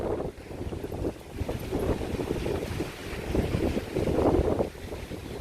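Big sea waves roll in at Maspalomas beach on Gran Canaria under a red-flag surf, with surging crashes and steady wind buffeting the microphone close by.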